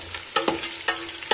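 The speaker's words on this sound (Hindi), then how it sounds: "अभी मैं पहले मेथी को तड़का दे दूं" Fenugreek seeds tempered in hot oil in a Pakistani village kitchen, a steady sizzle broken by a few sharp stirring scrapes, close and loud, with no talking.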